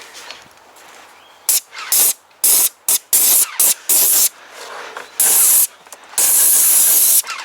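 Paint sprays onto hardwood butterfly steps in bursts of loud, close hissing, some short and some held for over a second, with quiet pauses between them.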